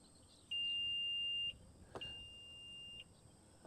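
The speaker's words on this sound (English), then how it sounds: "all you have to do is hold this button down and listen for the beeps." Two long, steady electronic tones from a 2024 Infiniti QX60 Autograph power tailgate while its maximum opening height is being set, each about a second long and separated by a short gap, loud and alone with no talking.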